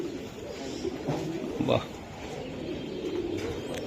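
Soft cooing from a male racing pigeon close by, a few low throaty coos over a steady background hum, with faint voices in the background.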